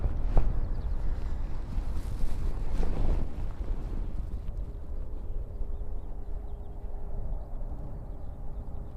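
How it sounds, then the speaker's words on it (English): Wind picking up outdoors, a steady rushing roar buffeting the microphone with a gust early on, then easing to a lower continuous rumble, no voices. "looks like the wind's picking up again."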